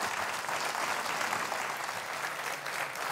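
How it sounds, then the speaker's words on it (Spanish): A studio audience at a Canary Islands folk music TV programme gives dense, steady applause that stays even for a few seconds. No one talks. "te damos un aplauso para que vuelvas cuando tú quieras"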